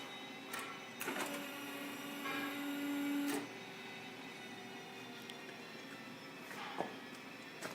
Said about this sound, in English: We'll go ahead and raise the table to a working height.